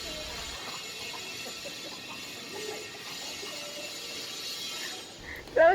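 Construction works clatter in the background at an outdoor COVID testing laboratory set up at UC Med, a steady mechanical, ratcheting din that holds throughout with a brief louder knock at the very end.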